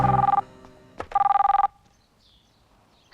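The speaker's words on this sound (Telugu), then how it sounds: "మాట తర్వాత ముందు ఫోన్ వచ్చింది చూడు" A telephone rings indoors in two bursts of fast, warbling electronic trills, clear and near, separated by a short gap and followed by quiet.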